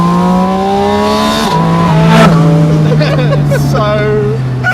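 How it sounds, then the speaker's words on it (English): A 2025 Porsche Spyder RS engine drones loudly and close at steady revs, with a sharp blip in the middle and rising, shifting harmonic tones afterward, while people speak faintly beneath. "Like proper, real, mechanical, visceral race car noises."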